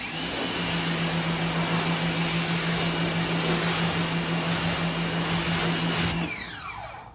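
Two Ryobi 1800 pressure washers run together through a 4.0 nozzle, a loud, steady motor roar with a high whine that holds for about six seconds, then spins down as the pitch drops; no one speaks.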